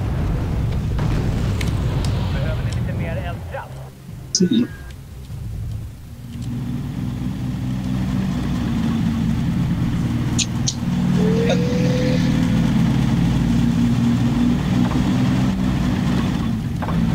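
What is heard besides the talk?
old RB-56 vehicle driving in a war video game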